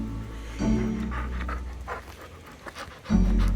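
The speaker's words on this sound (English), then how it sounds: "The Texas dingo mutt stands idle, tail wagging, either riddled with anxiety or from pure contentness." A Texas dingo mixed-breed dog pants in quick, steady breaths close by, with a brief whimpering rise near the end.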